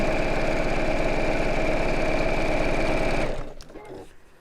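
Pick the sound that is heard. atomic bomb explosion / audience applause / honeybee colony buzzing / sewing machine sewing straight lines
sewing machine sewing straight lines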